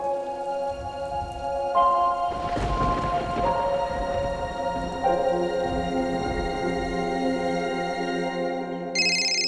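Heavy rain pours steadily and loudly throughout, a dense broadband wash with a burst of heavier downpour early on, while tonal ringing sounds sit on top and a brief high tone appears near the end.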